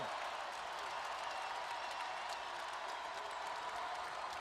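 A packed crowd at a 2020 North Carolina vs Virginia college basketball game roars with a steady, dense wash of cheering and applause that stays loud and unbroken throughout.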